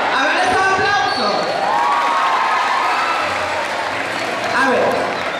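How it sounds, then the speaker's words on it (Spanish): Audience at a nativity play clapping and cheering loudly in a hall, with children's voices and shouts mixed into the steady applause throughout. "A ver, ese aplauso."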